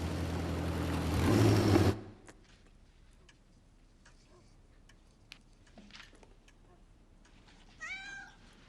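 A pregnant female cat lets out one short, clear meow near the end, following a loud rumbling burst that cuts off into quiet room tone with scattered faint ticks and clicks.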